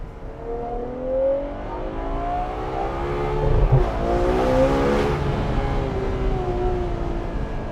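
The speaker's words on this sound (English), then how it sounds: "You know, days of engines that sound like this" A Ferrari 812 GTS's high-revving V12 engine sings as the car accelerates, pitch climbing and falling through gear changes, loud and close with a smooth, musical tone.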